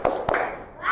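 A few sharp hand claps from schoolchildren in a classroom, two distinct claps followed by a young voice, brief and close.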